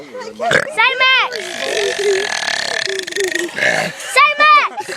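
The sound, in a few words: boy burping in a burping contest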